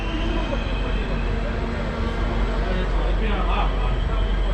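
Steady rumbling of a train in motion toward Venice, Italy fills the scene, a constant roar with rattling, and a person speaks briefly over it.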